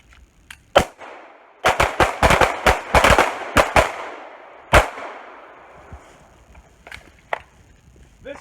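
Pistol gunshots ring out on a combat pistol course, sharp close cracks fired in rapid irregular strings by several shooters, with a few scattered later shots and echoes fading between them.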